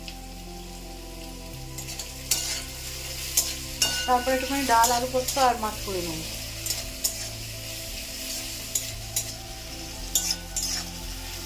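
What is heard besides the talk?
potatoes frying and being stirred in pan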